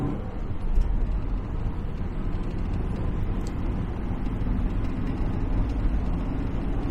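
A 1985 Subaru Brat GL engine pulls uphill in third gear, heard from inside as a steady, continuous low rumble that holds even throughout.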